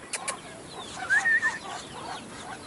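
A few chickens clucking softly at a distance, short bursts of clucks over quiet farmyard background.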